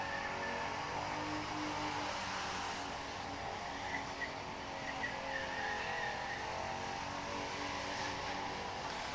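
A race car with a bored-out 305 engine revving hard at high RPM at a test-and-tune session, a sustained, somewhat distant engine whine holding steady without break.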